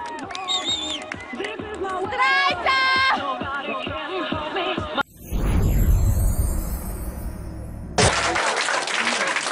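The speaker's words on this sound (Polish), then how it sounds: "Wielkie brawa!" Applause at a school anniversary celebration of a Salesian high school in Lubin breaks out midway as a dense, loud wash of clapping, following tonal sounds and voices, then rises again near the end.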